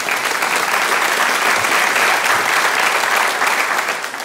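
Audience at a Czech performance claps loudly and continuously, a dense close wash of many hands that tapers slightly at the very end.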